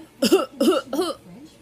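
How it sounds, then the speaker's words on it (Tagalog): A child gives three quick, close coughs in a row, followed by a softer trailing vocal sound. "Paano ka umubo? Ubo nga."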